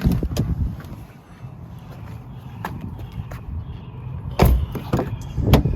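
The rear door of a 2002 BMW 540 M Sport opens with a couple of firm clunks and latch clicks near the end, close by, after a quiet stretch of faint handling noise.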